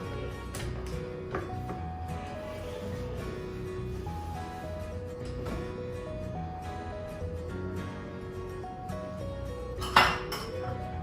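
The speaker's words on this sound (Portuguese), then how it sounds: "Vou pegar uma colher aqui para raspar aqui direitinho, para que a gente não desperdice nada da massa" A spoon scrapes cake batter from a mixing bowl, producing repeated clinks and scrapes of metal against the bowl, fairly close, with a sharper knock near the end.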